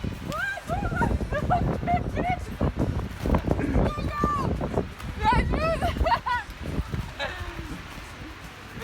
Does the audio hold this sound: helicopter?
no